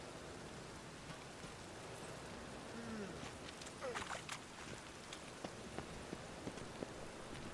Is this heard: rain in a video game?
yes